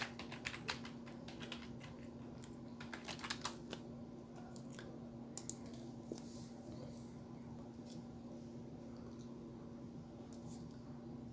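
Someone types the words 'UI gradient' on a computer keyboard, a scattered run of soft, quick key clicks over a faint steady hum, with no talking.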